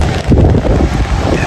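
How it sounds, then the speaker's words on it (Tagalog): Strong storm wind roaring and buffeting the microphone outdoors, a loud, continuous rumbling gust close up with no clear breaks. "Napakalakas po ng hangin."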